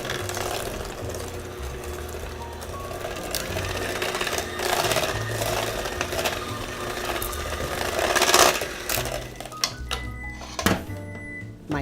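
Electric mixer whirring through a half cup of heavy cream in a home kitchen, a steady motorized drone holding for about ten seconds before stopping with a few clatters near the end.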